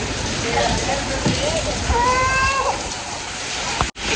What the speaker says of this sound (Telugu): వర్షం చూసారు ఎంత ఫుల్గా కురుస్తుందో